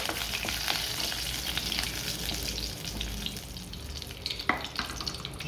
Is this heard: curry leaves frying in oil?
yes